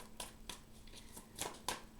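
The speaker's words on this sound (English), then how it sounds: "I'm going to go do my 3 shuffles" Tarot cards being shuffled by hand, a few quiet, quick riffling bursts spaced apart, close but faint, with no talking.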